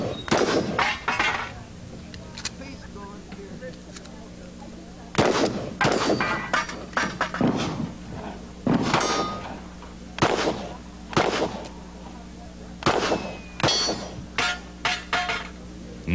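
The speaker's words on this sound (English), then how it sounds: "Nice shooting, Brad." Rapid gunshots ring out at a cowboy action shooting match stage, each sharp bang followed by the clang of steel targets, coming in quick bursts with brief pauses between strings.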